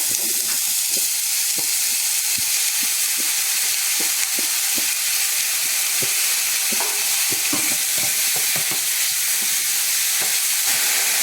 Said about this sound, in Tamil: இந்த வாழைப்பூவை போட்டுக்கலாம்